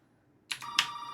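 Short electronic telephone ring from the Resident Evil 7 horror game, two quick bright bursts against a near-silent background.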